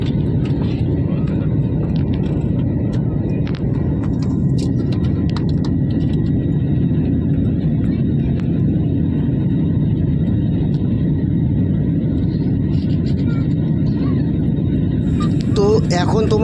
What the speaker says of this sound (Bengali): এরপরে বিমান আরও উঁচুতে উঠছে